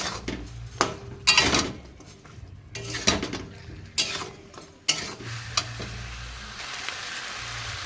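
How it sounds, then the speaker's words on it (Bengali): Chicken being stirred with salt and turmeric in a kadai, with metal spoon scrapes and clanks against the pan over a gentle sizzle, irregular strokes then a steadier frying hiss, close by. "এবারে এটা আমি খুব ভালোভাবে মিলিয়ে নেব"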